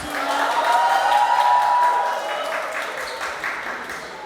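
A crowd of fans cheers and claps at the 6th Daejeon Special Effects Film Festival as actress Oh Yeon-seo greets them. Steady applause and high excited shouts swell, then ease into a lighter patter.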